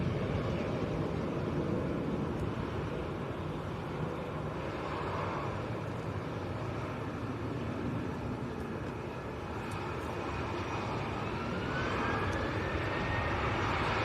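An EasyJet Airbus A320 jet from Amsterdam roars at Manchester airport, a loud, broad engine rumble that holds steady throughout with a rising whine near the end.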